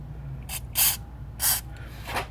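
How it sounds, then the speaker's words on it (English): Three short hissing bursts of aerosol spray on rear suspension parts of a 2004-2008 Pontiac Grand Prix, such as trailing arms and strut bolts, each burst distinct and close, with a faint hum beneath. "Doesn't hurt to spray things down to help keep rust and corrosion at bay."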